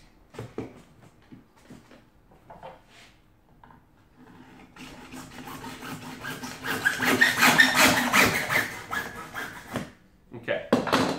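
A clamped piece of wood is cut by hand with a saw, first a few scattered scrapes, then steady rasping strokes building loud in the second half, with a little speech.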